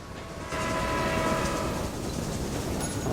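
Steady rumbling train in the railway management game Railway Empire, a continuous mechanical roll with faint tonal squeal, moderately loud and alone for a few seconds.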